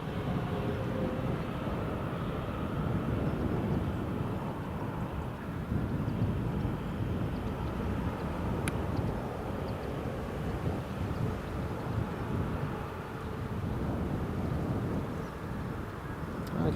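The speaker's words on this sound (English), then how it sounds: "And we've got Jet 2 737-800 just lining up now." A Jet2 Boeing 737-800 lining up on the runway at Newcastle Airport, a steady distant engine rumble and roar mixed with wind noise, continuous and moderately faint throughout.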